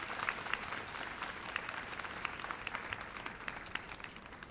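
Applause fills a concert hall at the Air Self-Defense Force Central Band's Wednesday concert after the vice mayor's song: a dense, sustained round of crowd clapping with distinct sharp claps, no voices.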